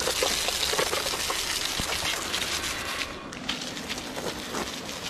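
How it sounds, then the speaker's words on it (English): Garden water hose spraying a steady, forceful gush of water at a snake in a yard, a continuous close hiss and splatter running the whole time without pause. "just grab your water hose and just spray it with your water hose"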